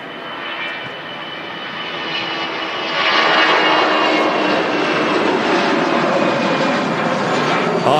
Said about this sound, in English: you hear them classic CFM engines,